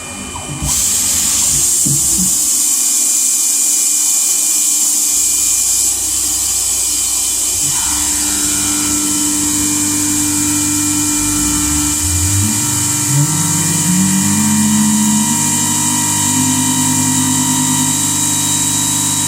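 A PM-30MV CNC mill cuts aluminum with a steady, loud whine and broadband machining noise, its spindle pitch rising and shifting partway through as the feed slows into the cut; no one speaks.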